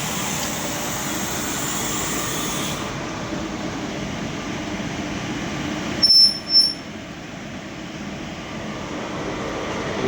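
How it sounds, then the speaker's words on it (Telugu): The MGR Chennai superfast express (12163), bound from Chennai Egmore toward Mumbai, rolls slowly to a halt in rain, its steady rumble broken by a brief metallic wheel squeal near the end. "ట్రైన్ కూడా ఇక్కడ ఆపేశారండి"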